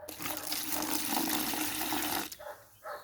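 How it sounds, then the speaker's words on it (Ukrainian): Water pours steadily in a close, splashing stream onto clay for a couple of seconds, then stops, followed by a brief wet trickle. "Заливаю глину водою."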